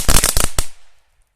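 An NWP Colibri firecracker battery fires a rapid burst of loud, sharp cracks in quick succession, ending with one last bang and a short fading tail into silence.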